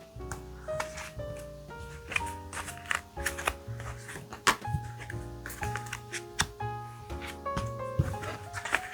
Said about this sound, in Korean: 한 장씩 뽑겠습니다.